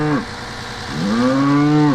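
A cow moos on a farm. A short low call ends just as a second, longer drawn-out moo begins, loud and close, with no talking.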